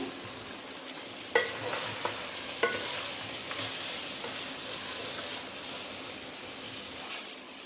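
Keema being stirred with turmeric, red chilli and ground coriander in a pan, a steady low sizzle with a few sharp scrapes of the spoon near the start, no talking.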